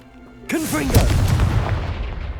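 A Confringo fire spell from Hogwarts Legacy goes off as a sudden booming blast with swooping magical tones, followed by a rumbling decay that fills the rest of the moment.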